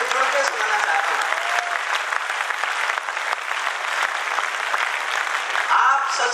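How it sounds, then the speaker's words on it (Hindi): Sustained, dense applause from a large audience at a Hindi poetry gathering, steady and loud throughout. "फूल तालियां उठाएं तो जी भर के उठाएं"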